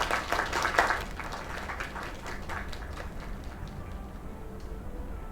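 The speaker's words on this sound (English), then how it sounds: "Another round of applause." Applause from a crowd in the video game Lake, loudest in the first second, then thinning into scattered claps and ticking sounds over a steady background.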